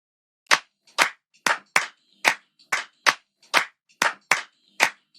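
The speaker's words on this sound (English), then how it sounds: "Sounds like all these hip hop clap patterns, but I decided to chop it up." Sharp sampled hand claps from a chopped hip hop clap pattern in an Afrobeat production hit in an uneven, syncopated sequence of about a dozen crisp, close, dry strikes with silence between them.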